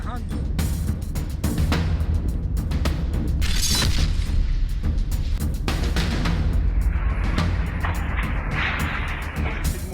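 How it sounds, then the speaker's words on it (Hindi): Rockets and artillery shells exploding in Ukraine, a steady run of heavy booms and sharp cracks that follow one another with hardly a pause over ten seconds, loud and close, with bursts of crackling debris and a voice speaking underneath. "धमाकों की आवाज तेज होती जा रही है"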